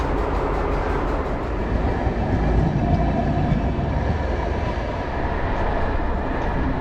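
Train rolling along rails during a journey in Turkey, a steady loud rumble with faint clickety-clack throughout, no talking.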